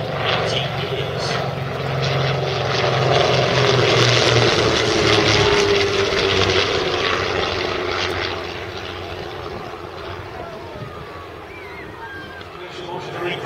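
Steady, loud propeller and engine drone from a Miles Hawk Speed Six aircraft, holding strong for about eight seconds before easing slightly as it continues.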